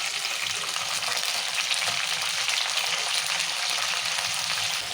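Curry leaves, coriander and mint frying in hot oil while being stirred, a dense, continuous loud sizzle that holds steady throughout with no talking.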